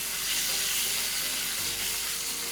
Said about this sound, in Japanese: できるだけ赤いところがないようにお肉を炒めていきます。